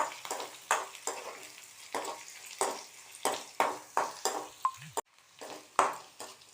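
Mustard seeds, urad dal, chana dal, green chilli, ginger and curry leaves fry in hot oil, giving a steady soft sizzle. A spoon scrapes and stirs the pan in repeated taps and clinks, with no talking.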